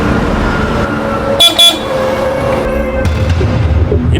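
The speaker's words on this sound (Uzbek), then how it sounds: "Bu yana signal cholyapti." A car horn blares in two short, loud honks near the middle, cutting through steady engine and traffic rumble heard from inside a moving car.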